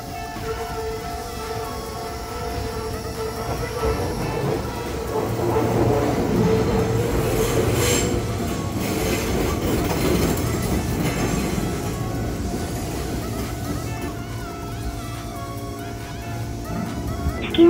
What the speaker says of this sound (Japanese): この海芝浦方面に行く線路は、大変カーブがきついので、車両から出る音に注目して、